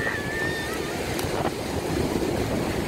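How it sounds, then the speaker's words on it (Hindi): Sea waves wash in at a beach in The Hague as a steady, broad rushing wash mixed with wind noise on the microphone, continuous and fairly close with no voices. "समुंदर की लहरों को।"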